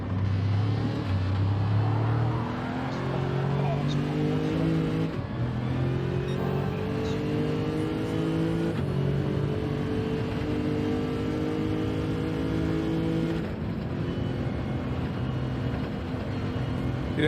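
A race car engine in Gran Turismo 7 at Spa, held at high revs near flat out in fifth gear, a steady loud drone with rising pitch sweeps and brief dips at gear changes.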